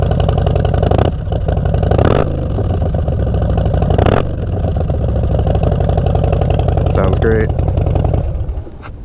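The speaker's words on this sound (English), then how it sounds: "Crank up the bike real quick just so you guys can hear the exhaust." A 2017 Harley-Davidson Dyna Low Rider S V-twin rumbles close and loud, its deep, throaty exhaust idling with several sharp revs and a brief spoken word near the end.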